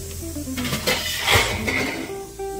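A metal lid clinks onto a cooking pot in a home kitchen, a couple of faint clatters and a soft scrape, close and quiet with no talk.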